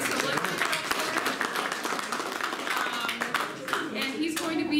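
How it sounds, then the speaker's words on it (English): Audience applause and clapping fill a room at a brown bag lunch presentation as a new host is welcomed, a dense, steady patter of many hands lasting throughout, with a few voices faintly underneath. "so let's give him a round of applause."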